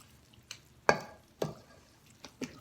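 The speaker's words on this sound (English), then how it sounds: "I'm going to stir that up good" Chicken and dressing gets stirred in a pan in a home kitchen: a handful of distinct scraping, squelching strokes spaced about half a second apart, close and fairly quiet, with no talking.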